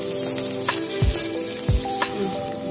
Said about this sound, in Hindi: सबसे पहले हम डालेंगे इसमें अनियन, तो ये छोटे 2 अनियन है